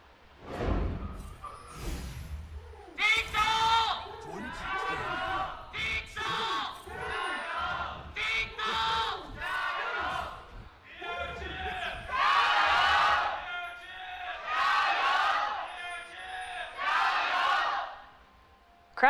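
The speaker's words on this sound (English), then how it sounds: "Crowd in full force today in Shanghai." A crowd at a League of Legends esports match in Shanghai cheers and shouts in repeated loud swells over nearly twenty seconds, with chanting voices rising and falling in waves.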